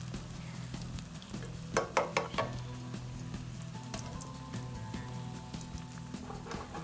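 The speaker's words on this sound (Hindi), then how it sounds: "ये देखें कितनी जल्दी जल्दी से ये फ्राई हो रहे हैं और क्रिस्पी हो जाते हैं" Croutons fry in hot oil for a cream soup, a soft continuous sizzle with a low hum and a few stirring clinks of a utensil against the pan.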